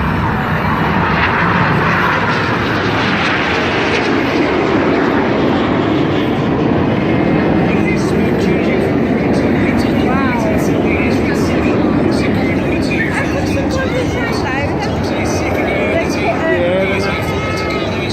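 Red Arrows display jets roar past during an air show at Weymouth, a loud sustained jet-engine rush that builds and holds for the whole stretch, with a commentator talking over it.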